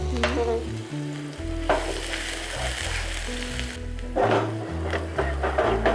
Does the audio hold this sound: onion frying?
yes